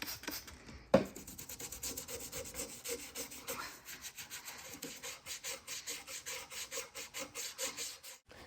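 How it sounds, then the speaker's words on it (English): Antique wooden table legs being sanded by hand with 150 grit sandpaper down to bare wood, a close, steady back-and-forth rasping in quick rhythmic strokes after a brief opening knock. "I'm gonna be sanding these legs to bare wood and the top using 150 grit"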